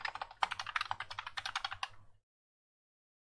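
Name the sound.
typing on a computer keyboard in AutoCAD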